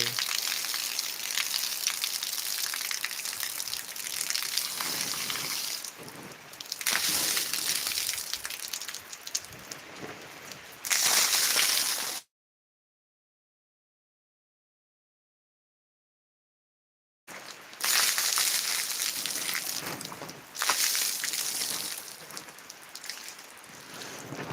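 Continuous soft drizzle hisses and patters outdoors at a hillside Balumama temple, swelling in places, interrupted by a few seconds of total silence before the drizzle resumes.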